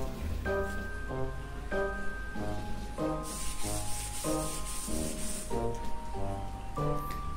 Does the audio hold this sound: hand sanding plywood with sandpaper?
yes